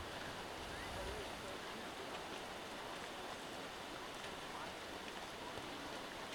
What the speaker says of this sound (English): And the rain is picked up here.